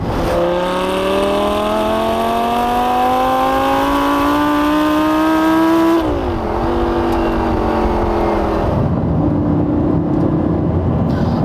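A Lamborghini Gallardo LP550-2 Balboni with a big naturally aspirated multi-cylinder engine revs loud and close, its pitch climbing steadily through a long pull, dipping at a shift, then rising again before easing off.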